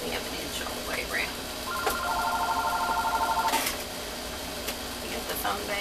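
An electronic telephone ring chirps in a steady repeated trill for about two seconds at a craft table where a matchbox album is being made, with faint talk and handling noise around it.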